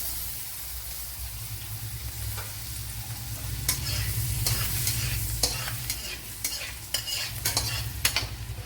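Chopped ginger sizzles in hot ghee for an oats upma, a steady close frying hiss broken by sharp, repeated stirring scrapes of a spoon against the pan, with no talking.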